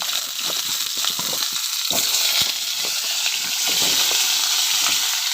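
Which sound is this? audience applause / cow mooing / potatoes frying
potatoes frying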